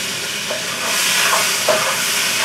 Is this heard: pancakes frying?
yes